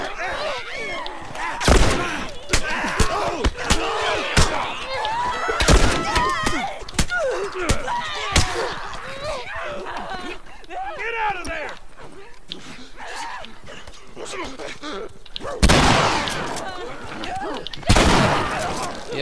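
Gunfire in The Last of Us, several sharp loud shots ringing out in bursts between stretches of animated talking, with a couple of heavier blasts near the end.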